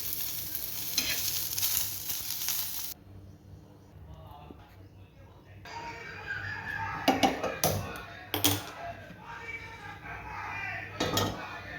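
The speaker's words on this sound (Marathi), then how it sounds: "कोथिंबीर, कढीपत्ता पण भाजून घेऊ।" Coriander and curry leaves dry-roast in a pan while making pumpkin kofta, a loud crackling sizzle for the first few seconds, then quieter stirring with scattered sharp scrapes and taps against the pan.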